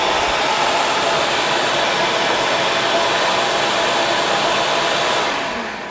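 An Oneida Dust Deputy dust extractor vacuum runs at a loud, steady whooshing roar close by, then begins to wind down at the very end.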